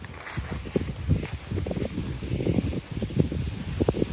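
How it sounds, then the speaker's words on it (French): Gusty wind buffets the microphone outdoors, a steady rushing roar with low thumps and rustling throughout. "Je ne sais même pas si vous m'entendrez parce qu'il y a pas mal de vent."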